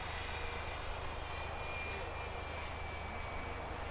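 A CZ Scimitar light aircraft flying in to land, heard as a steady, continuous engine drone throughout with no talk.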